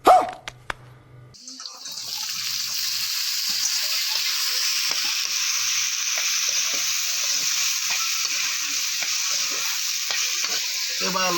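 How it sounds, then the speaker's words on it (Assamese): Potatoes fry in a pan, opening with a few sharp clatters before settling into a loud, continuous sizzle with small crackles throughout. "এইবাৰ আলুটো ভাজি লৈছোঁ"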